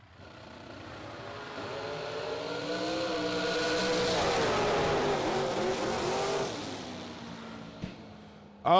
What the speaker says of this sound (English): Oh, man, what a drag race.